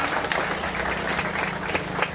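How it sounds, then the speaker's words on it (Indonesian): Schoolchildren applauding together at a school event, a steady wash of many hands clapping throughout with a low background hum. "Tepuk tangan anak-anak."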